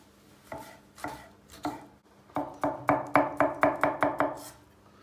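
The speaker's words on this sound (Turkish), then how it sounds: "Bir tane de domatesin yarısını doğruyor." A knife chops a tomato on a cutting board: three slow cuts, then a quicker steady run of about nine crisp chops, close and clear.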